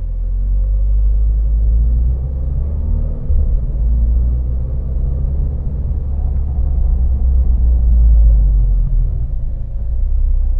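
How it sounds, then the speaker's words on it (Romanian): Steady low rumble of a Renault Clio RS Trophy 1.6-litre turbo with EDC6 gearbox idling, its start-stop system operating; a constant, fairly loud engine drone runs throughout with slight fluctuations and no speech. "Iată funcționarea sistemului start-stop."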